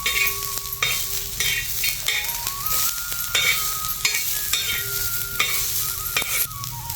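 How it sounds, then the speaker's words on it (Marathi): Onions and green chillies frying in a pan, a continuous close sizzle with repeated scraping stirs and clattering spatula strokes, no talking. "कांदा भाजतो चांगला आणि मिरच्या भाजत आता"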